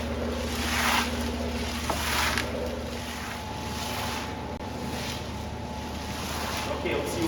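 A homemade tumbler turns a gas tank filled with water, giving a steady, continuous churning wash of sloshing noise with a constant mechanical hum beneath, close and even throughout.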